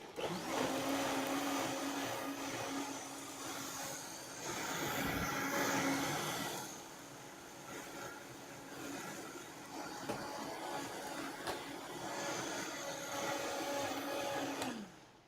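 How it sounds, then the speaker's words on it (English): A powerful blender whirs through ceviche liquid in pulses, a loud steady motor drone that dips briefly between bursts and then ramps up again before cutting off. "start with low. And I like to pulse it like that, because then the liquid comes up the blender like this"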